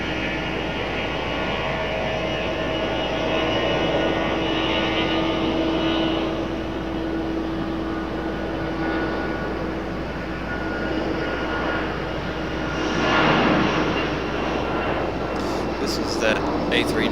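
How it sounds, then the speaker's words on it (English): An Airbus A319 airliner taxiing at Raleigh-Durham International Airport at night: a steady, droning jet engine hum with a faint whine, heard from nearby under a person talking throughout. "This is that A319 that was parked right here in front of us"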